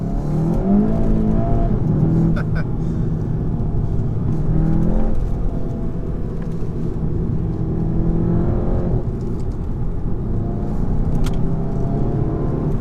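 A 2017 VW Golf GTI pulls hard in first gear, its engine note heard from inside the cabin rising steadily in pitch as it revs, loud and continuous over road rumble.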